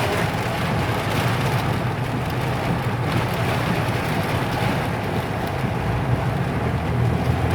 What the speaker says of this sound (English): It's like a freaking typhoon in there.